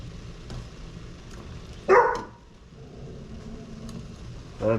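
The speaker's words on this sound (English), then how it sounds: "I'm not real sure what we're barking at today." One sharp dog bark stands out over a low rumbling background, with a second shorter bark at the very end.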